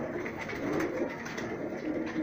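Pure Teddy high-flyer pigeons in Rajsamand, Rajasthan coo softly and continuously at close range, a low, faint, rolling murmur with no other sounds over it.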